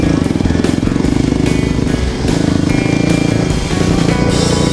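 A motocross dirt bike engine runs loud and close, holding a steady, buzzing idle with slight dips in revs.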